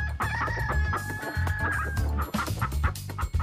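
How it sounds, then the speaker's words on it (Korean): Chickens cluck and crow loudly and continuously at a countryside spot in Gyeongju, South Korea, with busy overlapping calls close by and no talk. "여러분, 닭입니다, 닭."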